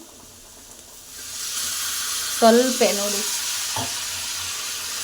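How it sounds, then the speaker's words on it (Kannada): Water is poured into a pan of frying spice paste of chili powder, turmeric, garam masala and coriander powder, a filling for egg puffs. It gives a sudden sharp sizzle and hiss that settles into steady frying, with a voice speaking briefly. "ಚೂರು ನೀರು ಹಾಕ್ಕೊತೀನಿ."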